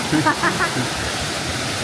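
A waterfall at Fervença pours with a steady, close broadband rush that fills the whole clip, with a few brief voices showing near the start.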